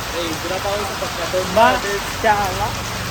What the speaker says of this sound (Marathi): काय सांगणार आता या पावसाला. पण जोरात आल्या आता